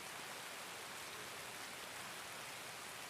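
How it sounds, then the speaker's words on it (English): Loud, steady rain in Escape from Tarkov pours down as a dense, even hiss with no letup, filling the whole stretch with no voices heard. "That is some loud rain."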